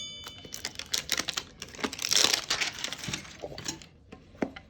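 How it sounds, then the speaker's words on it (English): Crackling, crinkling plastic wrap being tugged and peeled off a Pokemon card Venusaur mini tin, close-up in irregular bursts of sharp rustles that swell in the middle and then thin out. "My gosh, I can't get this plastic off."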